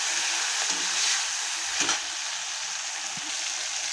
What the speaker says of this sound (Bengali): এখন চিংড়ি মাছটা আমি ভেজে নেব আগে লাল করে